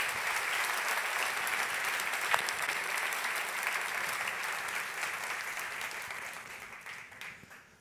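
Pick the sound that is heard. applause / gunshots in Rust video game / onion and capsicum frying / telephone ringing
applause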